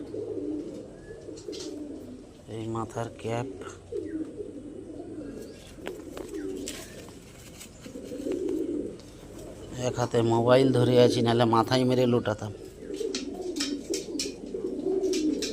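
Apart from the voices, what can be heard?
Lotan pigeons cooing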